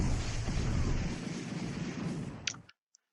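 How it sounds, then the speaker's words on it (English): An artillery bombardment during land combat in an alternate-history Pacific strategy game lands north of Aichang: a heavy, rumbling barrage of booms that slowly fades, ending in a few sharp interface clicks and then silence. "So we have a bombardment here"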